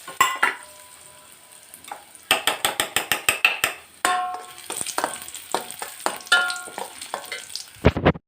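Raisins fry in ghee in a pan for a sago payasam, with quick bursts of rattling, scraping stirring against the metal and a light sizzle, coming in uneven clusters between quieter gaps.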